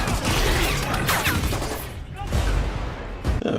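Gunfire in the film Sputnik, dense rapid shots and booming blasts filling the scene, loud and continuous with a brief lull before more firing.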